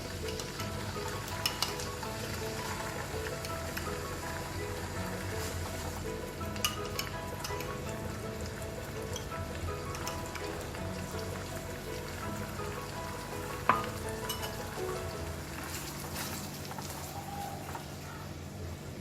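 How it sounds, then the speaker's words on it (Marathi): Steady crackling sizzle of a potato paste frying in hot tempering oil, continuous and close, with a few sharper pops and no talking. "आपण पेस्ट आधी घालून घेऊ भाजी फोडणीमध्ये"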